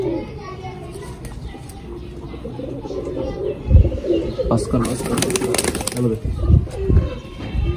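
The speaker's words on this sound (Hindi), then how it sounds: "ये जो हम नया कबूतर लेके आए थे" Pigeons coo in soft low bursts near the microphone, with voices and children playing in the background and a few louder thumps.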